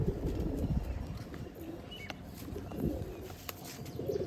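Pigeons coo on a rooftop loft, with low, soft, repeated coos that continue throughout, fairly close, over faint background noise.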